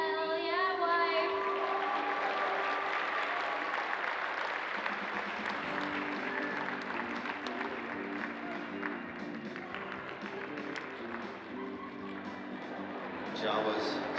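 A convention crowd applauds a cosplay competition entry at Planet Comicon, steady clapping throughout at a moderate distance, with a voice speaking over it and a musical tone sounding near the start.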